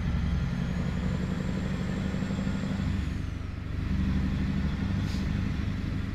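Steady, heavy diesel rumble from a Peterbilt 379 cattle hauler with a Cat 3408E engine in a truck simulator, droning continuously with a brief dip midway and no talk.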